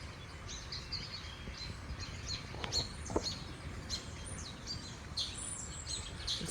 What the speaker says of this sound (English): let me go out here and film this serenade of birds flying all over the place